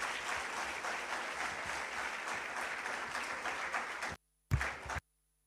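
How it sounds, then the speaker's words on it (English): A hall audience at a National Youth Day celebration applauds to welcome young students, a sustained even round of clapping that cuts off abruptly, followed by a brief burst and silence. "We request everyone to please welcome our young students with a round of applause"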